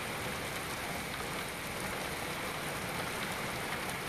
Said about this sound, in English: It's just hammering it down with rain here in Derby.